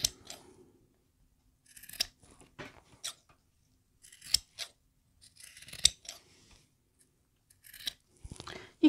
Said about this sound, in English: at the top corners where the flap is, I'm just going to trim those seam allowances down.